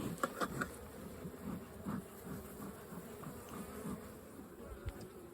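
Agitated honeybees buzz steadily at an open hive during a spring check, a close, low, continuous drone with a few brief louder passes and no talking.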